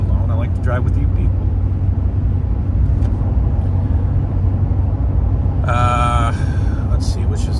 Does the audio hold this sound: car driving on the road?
yes